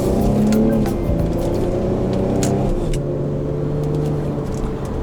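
Infiniti G35 coupe engine droning steadily while driving in manual mode, with a shifting engine tone partway through and road noise underneath, no talk.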